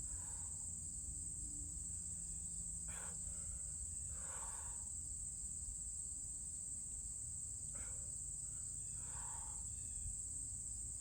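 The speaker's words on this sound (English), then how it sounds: "The chirping of the crickets" Crickets chirp steadily near a corn field, a constant high shrill trill that runs unbroken throughout, with faint scattered bird calls and low background rumble, no voices.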